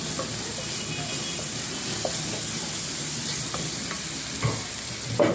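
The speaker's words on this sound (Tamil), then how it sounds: "இஞ்சி பேஸ்ட்டு போட்டுட்டேன். பூண்டு பச்சை போட்டு வதக்கியாச்சு." Ginger paste and green garlic sauté in a pan, a steady close sizzle and hiss with occasional soft spatula scrapes and light clicks, no voices.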